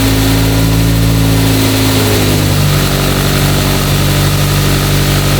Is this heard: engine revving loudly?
yes